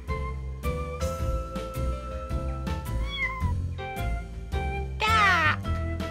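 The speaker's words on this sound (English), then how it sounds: "It's not a duck. It's a kitten." A cartoon kitten at the top of a conker tree gives several short meows over a light musical score, and one longer, rising wail comes near the end.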